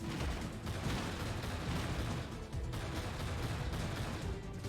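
Dense, continuous gunfire from enemies firing shotguns during a vehicle chase in Pursuit Force Warlords, loud and steady with overlapping blasts and rumble throughout, no pauses.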